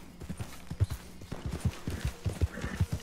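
Hooves of a horse clip-clop at a walk in the western game Red Dead Redemption 2, a close, fairly quiet series of steady rhythmic thuds with no voices over them.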